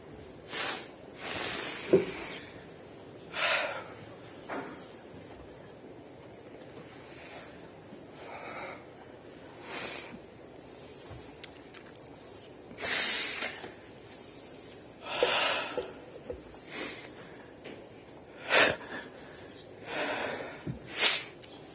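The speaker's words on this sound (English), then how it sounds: "I know you don't want to just keep hearing my sniffling" A person sniffles repeatedly, short sharp breathy snorts coming in irregular bursts every few seconds, close to the microphone with quiet pauses between.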